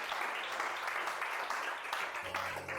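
A church congregation at a Sunday service applauds, a dense wash of many hands clapping steadily at moderate volume with no speech over it, and a low hum entering near the end.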